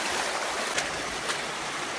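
Creek water running across a hiking trail on the Allegheny Trail, a steady, close rushing hiss with a couple of brief splashy surges and wind.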